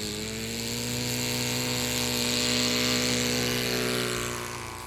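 Scale model airplane flying overhead, a steady high-pitched engine whine that swells louder as it passes near and then fades slightly.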